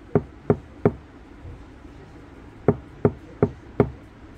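A Hyundai Veracruz front door trim fitted with four sound-deadening mats is knocked sharply several times: three quick taps, a pause, then four more, each short and close.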